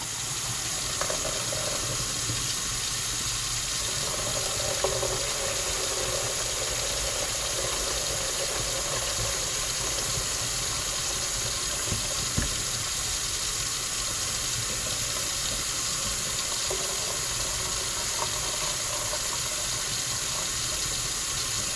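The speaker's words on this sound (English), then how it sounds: "I'm running cold water in this sink to protect my plate from this hot, steaming hot water that's coming out of this pot." Cold water runs from a kitchen tap into a sink while a pot of hot vegetable-cooking water is being drained. A steady, moderate splashing stream continues throughout, with a few faint knocks and no speech.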